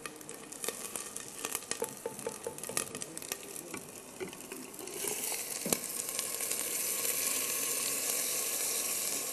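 Onions frying in oil for a Nizami mutton roast, a steady crackling sizzle that swells louder and denser in the second half, with scattered pops and no talking.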